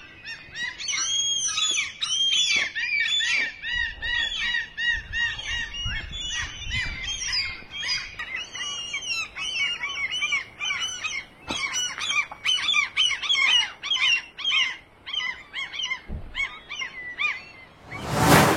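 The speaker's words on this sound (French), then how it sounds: "Ils font des bruits comme des chats qui se battent ou comme des bébés qui crient." Seabirds, likely gulls, calling by the sea on Senja island in Norway: a dense, continuous chorus of harsh, overlapping squawks and honking cries, loud and close, with no talk.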